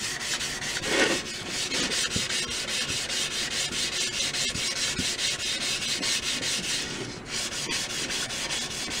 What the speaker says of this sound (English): I'm going to be going over this with a 320 grit now